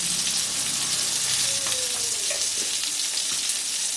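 Bottle gourd pieces, fried until browned, hiss and sizzle steadily in a pan, a close, even crackle with faint scraping and no talk.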